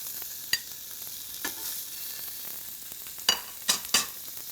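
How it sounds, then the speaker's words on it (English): Beef sizzles steadily in hot oil as it browns, with a few sharp crackles and pops standing out against the hiss. "You want to hear that delicious sizzle."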